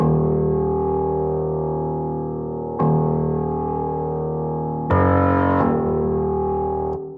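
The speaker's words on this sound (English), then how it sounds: "Next sound we have is the same Grand Piano 3 key from Pandora, but it's only playing the root note and it's one octave lower" A Grand Piano 3 VST from Pandora plays a single low root note, one octave down, struck four times at a slow, even pace, each note loud and sustained into the next.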